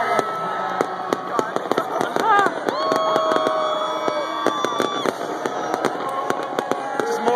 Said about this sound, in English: Fireworks is shiny, gone now.